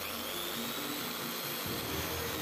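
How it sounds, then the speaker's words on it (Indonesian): A steady, whining power drill runs close by, slowly drilling a hole in a bamboo flute, its motor pitch shifting slightly partway through. "Kita lubangi dengan bor perlahan saja."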